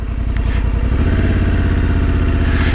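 A Honda Africa Twin motorcycle engine cranks and catches, then settles into a steady, even idle with a rapid low thump, loud and close.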